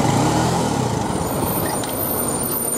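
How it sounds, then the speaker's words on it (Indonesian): A bus passes on a road in India, its heavy engine rumble loud and close, then easing slightly as it goes by. "Oh, bus coming, bus coming."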